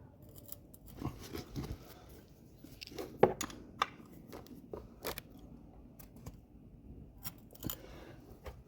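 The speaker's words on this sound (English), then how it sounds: "I'm going to take the 17, put it on here, and break it loose." A 17 mm wrench cracks loose an over-tightened bolt on a GSX-S1000F motorcycle: scattered close metallic clicks and taps, with one sharp snap near the middle, no talking.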